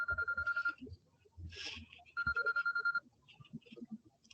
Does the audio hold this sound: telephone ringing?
yes